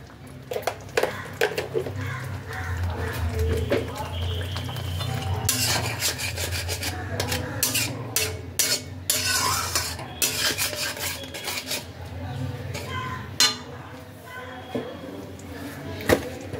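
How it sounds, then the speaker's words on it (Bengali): Ginger and fennel spice paste is worked in a pan for a tilapia fish curry, with repeated rasping, scraping spatula strokes over a steady low cooking hum, close and moderately loud throughout. "এবার মশলাটাকে খুব ভালোভাবে কষিয়ে নিতে হবে।"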